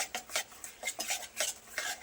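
A metal spoon stirs finely chopped jaggery into warm sukhdi batter in a pan, with quick repeated scrapes and clinks about every quarter second, close and clear, with no talking.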